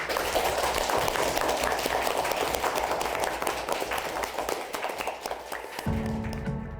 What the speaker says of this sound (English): should we give Kobbie a huge round of applause?